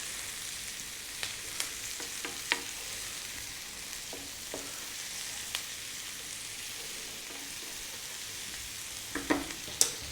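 Cumin and turmeric sizzling in a frying pan, a soft continuous hiss with scattered small pops and utensil clicks, moderately quiet and close, without any talking.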